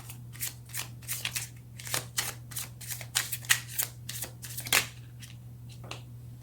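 Tarot cards being shuffled and drawn, a rapid series of crisp, close snaps and riffles over a steady low electrical hum, with no voice heard.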